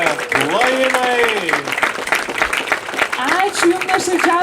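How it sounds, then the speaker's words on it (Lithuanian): Audience applause at a festival closing concert, continuous clapping with cheers and voices layered over it, sounding close and lively throughout. "Plojimai!"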